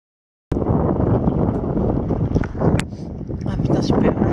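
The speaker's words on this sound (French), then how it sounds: "le vent souffle en tempête, malgré le courant, on est repoussé par le vent" Strong wind gusts buffet a canoe on the Ardèche river in April, roaring loud and steady against the microphone after a short silent start, with no speech over it.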